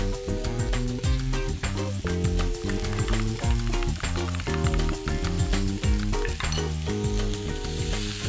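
Pork and sesame balls fry in a hot pan with a loud, steady sizzle and crackle, heard close and continuous under background music.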